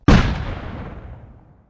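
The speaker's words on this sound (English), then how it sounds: "let's imagine the explosion of a bomb" A single loud bomb explosion sound effect, a sudden sharp blast followed by a long rumbling decay that fades over about a second and a half, with no voices.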